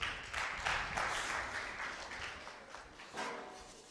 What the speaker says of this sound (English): Round of applause for Team G.